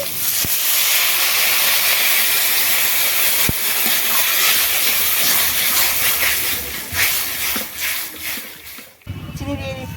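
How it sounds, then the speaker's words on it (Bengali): Water poured into a hot pan of lightly fried fish roe, producing a loud, continuous steamy hiss and sizzle that drops away near the end, then gives way to bubbling. "হালকা করে ভেজে রাখা মাছের ডিমটা দিয়ে দিচ্ছি জল দিয়ে দিচ্ছি"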